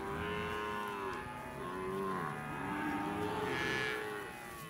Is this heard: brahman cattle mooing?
yes